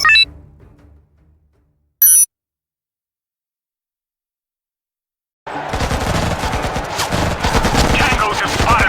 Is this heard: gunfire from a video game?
yes